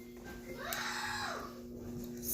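A child lets out a long, rising and falling yell or scream inside a car, loud and close over low road noise, with no speech during it.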